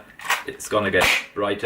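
A modded Hammershot toy foam dart blaster fires with a couple of sharp, snappy pops while a person talks over the shots.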